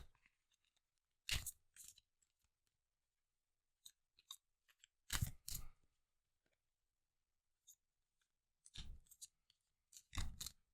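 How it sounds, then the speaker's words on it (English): Tarot cards are shuffled close up in several short, crisp bursts of riffling and snapping, separated by quiet gaps with faint card clicks, without any speech. "let's shuffle these cards real quick"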